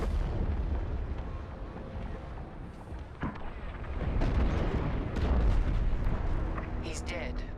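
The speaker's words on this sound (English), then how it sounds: "The frigate is about to explode." Large frigate blowing apart in the Star Wars Squadrons space combat game, a sustained rumbling roar with booming blasts and crackling bursts, loud and continuous, with voices talking over it.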